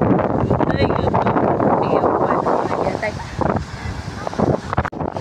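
Strong wind buffets the microphone on an island shore, a loud, constant roaring rush. Faint voices are nearly buried in the gusts.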